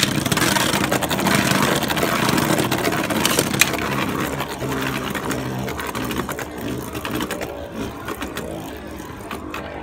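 Hasbro and Takara Tomy Beyblade Burst tops whir loudly in a stadium after launch, a continuous close buzzing spin with scattered clicks of collisions, gradually thinning toward the end.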